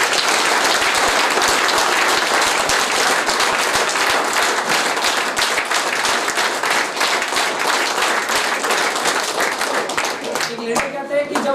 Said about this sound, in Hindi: तालियां बजाए सभी लोग।